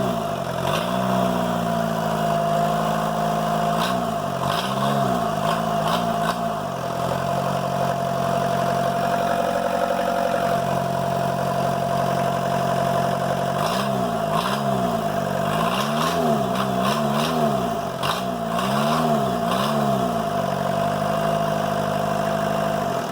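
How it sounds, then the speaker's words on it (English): Engine of an old Bobcat skid steer idles steadily, then revs up and down in repeated surges, loud and close with no talking. "I was able to get that engine to idle, and it would rev up just like any other engine would"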